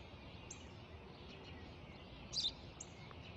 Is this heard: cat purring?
no